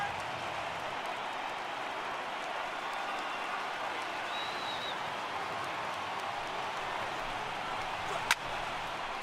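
Stadium crowd of over 39,000 in the MLB The Show 18 baseball game Yankees at Mets, a steady roar of cheering and clapping throughout with a brief sharp crack near the end.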